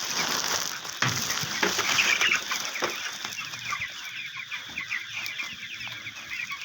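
Free-range chickens on a farm cluck and chatter steadily at close range, with occasional wing flaps and sharper calls over a constant flock murmur.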